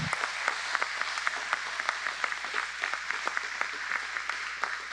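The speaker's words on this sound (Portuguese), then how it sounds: "diga amém e aplauda ao Senhor que ele merece" Worshippers at a Pentecostal praise service clap in church, a steady, moderately distant applause with some sharper individual claps standing out in a loose rhythm.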